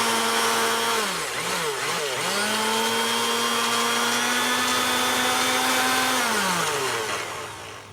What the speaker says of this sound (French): on va tout passer au mixeur ou dans un blender